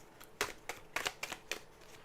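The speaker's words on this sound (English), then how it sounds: "let me shuffle the cards while you're thinking about your wish" Tarot cards being shuffled, a quick series of soft, crisp riffling bursts close by, fairly quiet and without talk.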